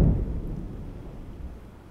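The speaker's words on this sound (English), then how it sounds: "you add that with some subwoofer rumble plus some explosion sounds like this one that is underwater." An underwater explosion layered with deep subwoofer rumble: a heavy low boom at the start that settles into a muffled, rolling low-end rumble, slowly fading over two seconds with no voices.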